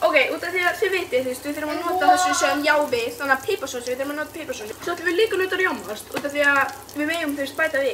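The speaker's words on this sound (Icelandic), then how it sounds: "ég ætla að nota olíu til að steikja" Sausages frying in oil in a pan give a continuous light sizzle and crackle beneath steady close conversation throughout.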